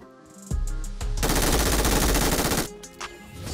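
A machine gun fires in a shooting video game during an intense squad battle, with a few separate shots followed by a loud sustained burst of rapid automatic fire lasting over a second, then scattered shots.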